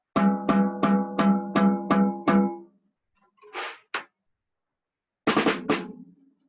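Seven sharp, evenly spaced snare drum hits with the snares switched off, a ringing tone, then a few duller, looser strikes after a pause, without the buzzy rattle.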